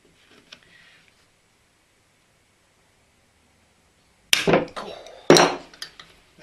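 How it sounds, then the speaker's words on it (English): Wrench clanks on the cylinder base bolts of a Stihl MS880 chainsaw: two sharp, close metallic knocks with short ringing tails after a long quiet stretch. "now we need to slacken off the cylinder base bolts."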